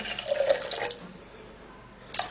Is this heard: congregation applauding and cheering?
no